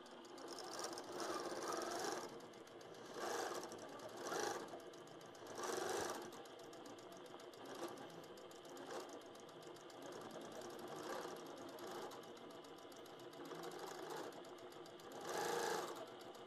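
A computerized quilting machine stitches in a rapid, steady needle chatter, with the motor rising and falling in regular surges every second or two, close and without talk.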